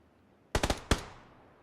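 Rapid gunshots in the PUBG battle royale game, a quick burst of three cracks followed by one more shot, sharp and fairly close with a short echoing tail.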